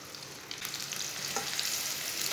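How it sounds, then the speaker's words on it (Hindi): Finely chopped onion fries in about half a cup of hot oil in a pan, giving a steady, close, bright sizzle with crackling spatter and occasional stirring scrapes, no voices. "प्याज को हल्का सा ब्राउन कर लेंगे।"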